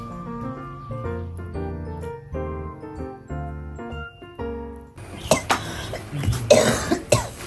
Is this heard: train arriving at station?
no